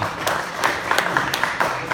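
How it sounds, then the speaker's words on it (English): A conference audience applauds people on stage at a Zimbabwean advertising event, a short run of scattered, moderately loud hand claps from a smallish crowd. "Let's give them a round of applause."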